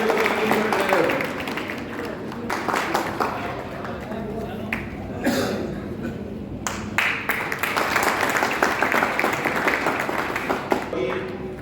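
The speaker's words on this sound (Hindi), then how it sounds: "तालियां बजती रहनी चाहिए।" A crowd at an outdoor farmers' fair claps in a dense, sustained burst that continues throughout, with a loudspeaker voice talking over the applause at points.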